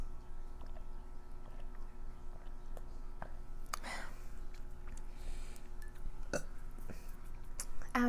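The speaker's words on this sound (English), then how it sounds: "I was expecting a bigger burp." A single burp during a mukbang meal of uni pasta and crab cream cheese wontons, a short broadband burst near the middle set against quiet room noise and faint eating clicks.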